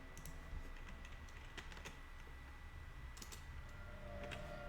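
Keys clatter on a computer keyboard in a run of irregular taps and short bursts, close and fairly quiet over a steady background hum, with no one speaking.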